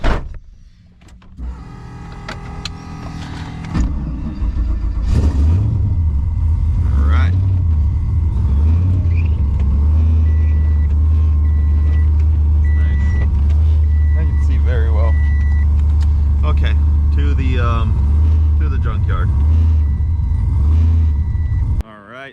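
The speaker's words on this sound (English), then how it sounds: "How's your cold start? Shouldn't be too bad, hopefully." A car engine cold-started in cold weather, cranking briefly before catching into a loud, steady low idle that runs on for about twenty seconds, with beeping chimes and talk over it.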